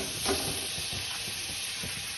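Butter hitting a hot kadai sizzles with a steady close hiss, a brief brighter spatter near the start, then an even frying crackle with faint stirring.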